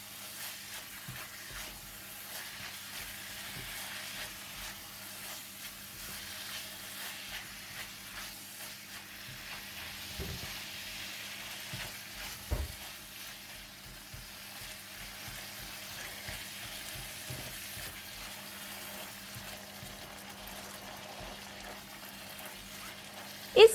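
Minced pork with soy sauce being stir-fried in a pan, a faint, steady sizzle with occasional scrapes and clinks of stirring throughout, no voices.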